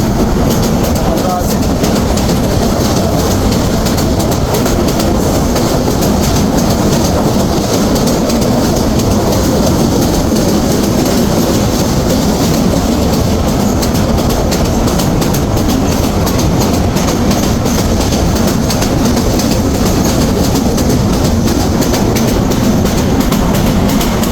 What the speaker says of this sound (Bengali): আমাদের ট্রেনটা আবারও রানিং হয়েছে চলতেছে